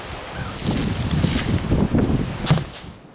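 Strong north wind gusting across an outdoor deep-mulch garden, a steady broadband roar with rustling swells that peak mid-clip, heard alone without talking.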